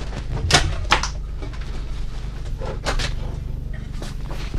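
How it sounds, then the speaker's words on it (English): Storage compartment doors on a 2019 Newmar Canyon Star 3722 RV being opened, a few sharp latch clicks and thumps close by, with quieter handling noise between them. "I'll open up all the storage and let him get a shot of that also"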